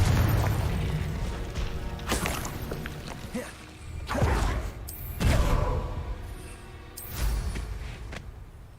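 Confringo blasting spell explosions in the video game Hogwarts Legacy: a run of several loud booming bursts at irregular intervals, each with a whooshing crack and rumbling tail over a steady low game soundscape.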